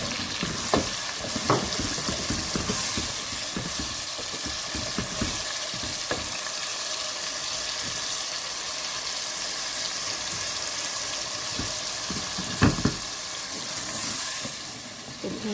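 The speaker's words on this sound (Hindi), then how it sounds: "अब इसमें हम अपने टमाटो पेस्ट डाल देते हैं। ये टमाटर लेके मैंने ग्राइंड कर लिए थे, तो उसकी पेस्ट हम डाल दें। इसको हम भूनेंगे।" Ground tomato paste fries and sizzles in a pot for chicken handi, a steady close hiss with occasional louder spits and stirring clatters, no talking.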